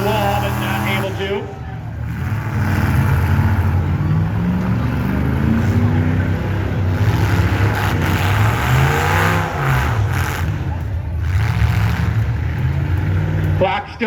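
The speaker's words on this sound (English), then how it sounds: "there's still 2 cars doing battle over there, trying to push him over to the wall" Full-size street stock cars at a county fair demolition derby rev hard while shoving each other toward a wall, their engines surging and droning loudly on and off throughout under an announcer's voice and crowd noise.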